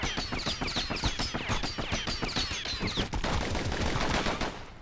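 Dual slinger pistols in the video game Bastion fire in a rapid, dense volley of sharp shots for about three seconds, then give way to a steady, loud wash of noise.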